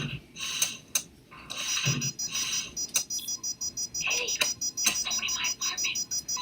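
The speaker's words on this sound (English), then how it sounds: "Loud beeping is annoying." Electronic beeps and chirps from a Sega Saturn game, sharp repeated tones in an uneven rhythm, fairly loud and close, with faint low background noise beneath.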